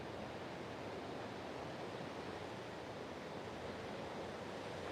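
Ocean surf rolls steadily along the shore at Pacific Beach, a dense, continuous wash of breaking waves with no pauses and no voices over it.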